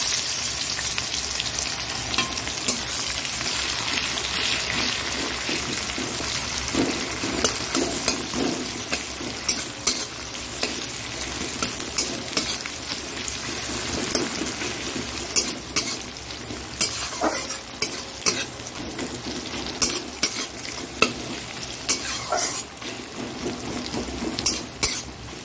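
Chopped onions frying in a pan, with a steady loud sizzle throughout and scattered sharp clicks and scrapes from stirring; nobody speaks.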